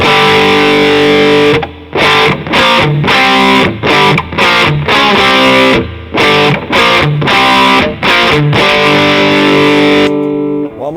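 Distorted electric guitar playing a riff with choppy, rhythmic power-chord stabs separated by short muted gaps, loud and close with no voice.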